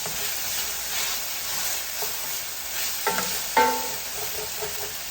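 Onions frying for a soul food oxtail dish, a steady close sizzle with a few sharp scrapes of a utensil against the pan bottom near the end.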